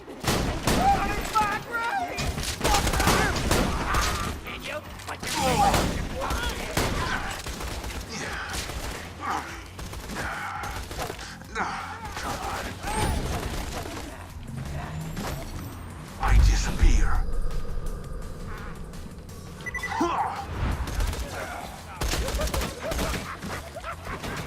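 Pistol fire in the video game Borderlands 2 on Southern Shelf Bay: rapid, close gunshots in dense bursts mixed with other loud combat noise, with a heavy boom near the middle and brief pauses between volleys.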